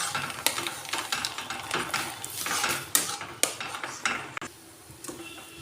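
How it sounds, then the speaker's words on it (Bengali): Mashed sweet potato and mung dal are worked together with semolina into a pitha dough in a bowl, with busy clinks and scrapes of a utensil against the dish and a few sharper knocks, close and fairly quiet, without speech. "আমি এরপর এই সুজি দিয়ে মেখে নেব।"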